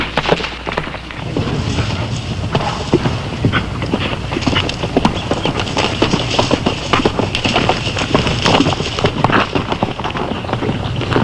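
Horse hooves clip-clop in a brisk, continuous rhythm of loud, close strikes that keep going throughout, with no one talking.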